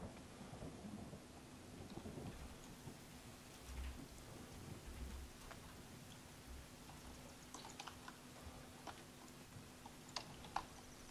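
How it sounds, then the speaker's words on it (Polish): Steady rain pours in The Forest video game, a dense, even hiss with faint distant rumbles and scattered light ticks and drips throughout. "A zawsze w pierwszym dniu deszcz pada,"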